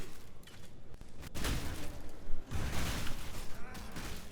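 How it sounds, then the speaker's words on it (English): Repeated explosion bursts from war cry skills in the action RPG Path of Exile, loud whooshing booms in two main waves amid layered game combat noise. "The explosions as like the war cry is going off."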